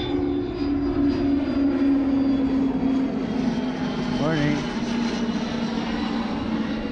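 A chartered jet passes overhead with a loud, steady roar that swells and fades slowly, while a voice greets someone briefly underneath it.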